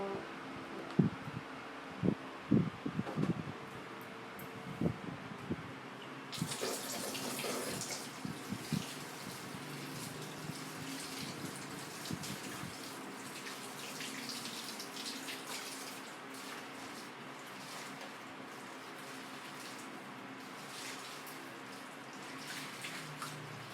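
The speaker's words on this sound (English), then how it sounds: "So we're going to wash this nipple brush." Tap water runs steadily into a sink while a baby bottle nipple brush is washed, a continuous hiss with a few clicks and knocks near the start, close by with no voices.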